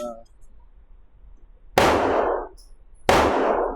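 Two sharp, loud gunshots from a Stoeger STR-9 pistol, a budget 9mm striker-fired handgun, ring out about a second apart, each a sudden crack with a brief decaying echo, amid quiet outdoor background.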